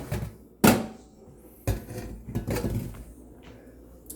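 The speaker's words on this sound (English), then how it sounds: "And then we're going to dump the potatoes in." Potatoes are dumped into a boiling pot: a few sharp clattering knocks of the pot and utensils, one loud bang followed by softer thuds and rustling, close by.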